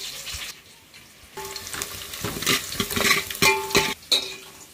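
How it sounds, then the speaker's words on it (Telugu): Onion and green chillies frying in hot oil for pulao, a steady close sizzle with bursts of spatter and several sharp scraping clinks of a utensil against the pan, growing louder midway. "పచ్చిమిర్చి ఉల్లిపాయలు అయితే బాగా వేగినాయి కదండి"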